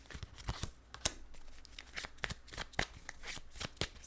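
Tarot cards being shuffled by hand, a rapid run of crisp riffling snaps and soft slides, close and fairly loud with no talking.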